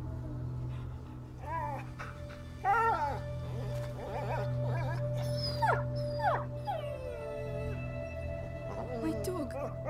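A dog whimpering and whining in the video game A Plague's Tale: Innocence, a run of high, wavering cries and yelps over a constant low drone, fairly close.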